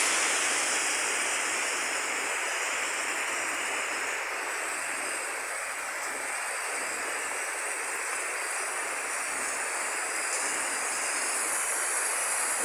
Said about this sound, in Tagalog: Maagos na yung tubig.